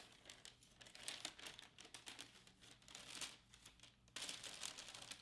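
Pink tissue paper from an Air Jordan 1 Low sneaker box crinkles and rustles close by in quick, irregular bursts, soft overall, with a brief pause before another flurry of crumpling.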